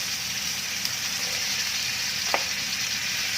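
Carrots and green beans stir-fry in a wok, an even close sizzle with occasional scraping from stirring and a brief clink of a utensil, no talk.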